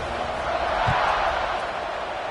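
A stadium crowd in a college football video game, Gators versus BYU, keeps up a steady, wide roar of cheering after a touchdown drive, heard as continuous background noise.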